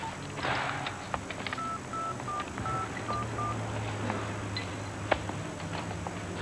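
A telephone number is keyed in as a quick series of short touch-tone beeps in an uneven rhythm, heard over a quiet room background with faint rustling and no speech.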